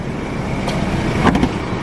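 A 2-liter twin-turbo diesel car engine running steadily, a continuous low rumble at close range with a slight swell in loudness near the end, no talking.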